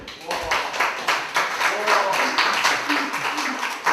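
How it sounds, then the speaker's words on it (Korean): An audience at a national unification policy seminar applauds an introduced speaker. The clapping is dense and sustained, with a voice or murmur running underneath. "박수 한번 쳐주시죠"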